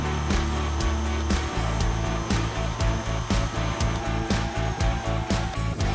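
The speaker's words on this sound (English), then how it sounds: "Add 2 eggs and set your mixer to medium-high for 5 minutes." An electric stand mixer runs on medium-high mixing ground meat and vegetables with eggs for Cajun boudin sausage, a loud, steady motor whine with a rhythmic thumping churn, no voices.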